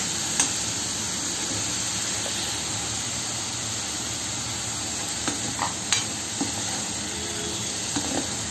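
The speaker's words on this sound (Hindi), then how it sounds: "अब इसे हम थोड़ी देर तक फ्राई करेंगे, ये हल्का ढक ढक के भी फ्राई करेंगे ताकि ये अच्छे से फ्राई हो।" Paneer masala fries steadily in a pan for dhaba-style paneer, a loud, continuous sizzle and hiss with a few faint stirring clicks.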